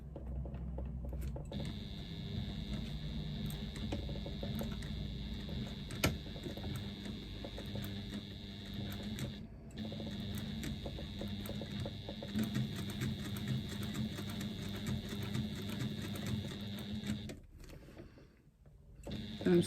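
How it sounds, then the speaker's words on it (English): Sewing machine stitching around the outside of card slots with an eighth-inch seam allowance, a steady close mechanical whir that runs in long stretches with a brief pause near ten seconds and a stop near the end. "I'm stitching around the outside of these card slots, again using them on an 1/8 of an inch seam allowance"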